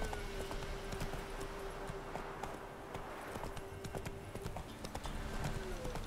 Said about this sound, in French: Mon cheval ne veut plus galoper.